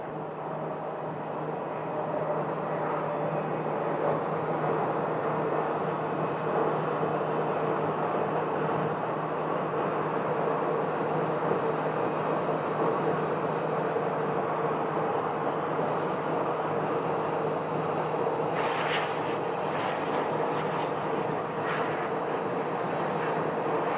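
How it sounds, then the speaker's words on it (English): A Frontier airliner lands at Phoenix Sky Harbor Airport as a broad, steady jet roar heard from a distance, holding level throughout with a few faint clicks and rustles near the end. "And now we got a Frontier landing"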